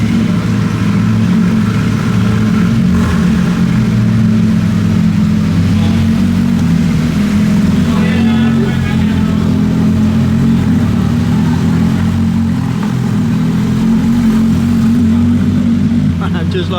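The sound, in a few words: Porsche GT3 RS engine revving as cars drive off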